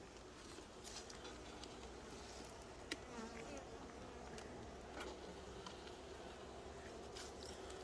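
Buckfast honey bees hum and buzz in an open hive, a dense, continuous drone of many insects close by with faint handling sounds and occasional ticks beneath.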